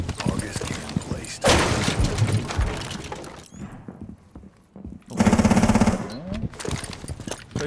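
Rapid footstep clatter in a shooter game, played on a Southeast Asia ranked server, loud clip-clop bursts in two long runs separated by quieter stretches with scattered gunfire-like cracks.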